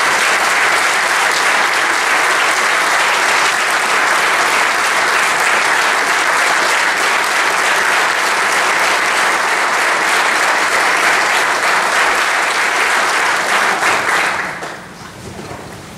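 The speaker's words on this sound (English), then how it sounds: "I invite you to join me in saluting him with a rousing round of applause for his outstanding effort" A large audience claps in a loud, dense, sustained ovation at a tribute event, holding evenly for about fourteen seconds before quickly tapering off.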